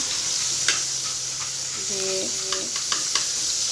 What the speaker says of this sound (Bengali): এখন শাকটা বাগার দিচ্ছি দিয়ে দিলাম